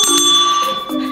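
A telephone rings in a hotel with bright, metallic, bell-like tones that are loud and close and last about a second, with no talk.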